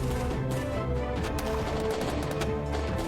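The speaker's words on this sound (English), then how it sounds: "Oh man, 1 horse took a cannonball to the face." Cannon fire in the video game Wooden Battles, a dense run of rapid booming shots and impacts layered over a steady battle din, loud and continuous with several blasts overlapping.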